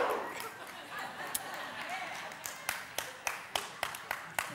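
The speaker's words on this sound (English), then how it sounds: "give me two claps and a Ric Flair" Church congregation on a Sunday morning clapping on request, a run of sharp, evenly spaced claps rising toward the end over a murmuring room, with talk in the background.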